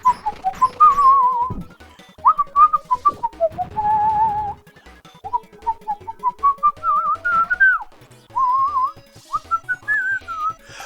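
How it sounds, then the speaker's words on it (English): Person whistling a wandering tune alone in clear sustained phrases broken by short pauses, with faint clicks and thumps underneath. "Always been accused of having an old man's whistle"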